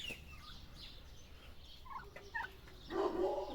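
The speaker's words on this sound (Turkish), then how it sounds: "Evet hindiler bu şekilde arkadaşlar." Several turkeys on a turkey farm call out in short bursts at moderate distance, with a louder burst of gobbling near the end over a steady low background hum.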